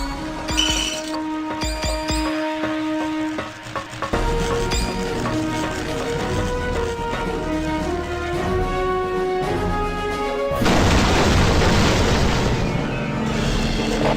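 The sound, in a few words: missile self-destructing explosion in video game Marvel Ultimate Alliance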